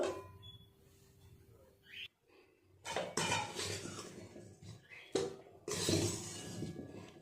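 Fried potatoes are tipped onto desi chicken in a pot, giving bursts of close clattering knocks and utensil scrapes between quieter stretches, with a faint voice in the background.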